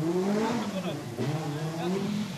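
Engine of a 1984 Peugeot World Rally Championship car revving and accelerating, rising and falling in pitch through gear changes, heard under someone talking.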